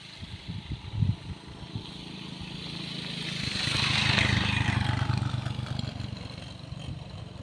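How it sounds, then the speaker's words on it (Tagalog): A single motorcycle passes along a mountain road, its engine rising from a faint approach to a broad, moderately loud peak midway, then fading away, with a few light clatters near the start. "May dumaan pang kuan, motor single."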